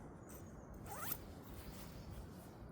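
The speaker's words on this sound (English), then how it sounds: "you can zip up the bug net over the face just like so" A zipper is drawn along the bug net over the face opening of a British Army modular sleep system sleeping bag. It makes one quiet, quick zipping run, close up, with no talking.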